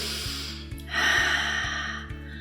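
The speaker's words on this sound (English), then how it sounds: "Breathe in and out, shoulder blades down, and pull your forehead slightly with your fingers." Breathing during a face exercise: a close, audible breath with a soft airy rush, over a faint steady rhythmic background beat.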